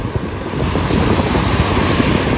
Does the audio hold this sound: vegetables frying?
no